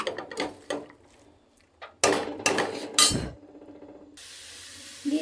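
Ingredients being fried and stirred in a pan for a Kannada-style saaru curry, heard as close, irregular metallic scrapes and clatters of a utensil against the pan in short bursts, with no talking.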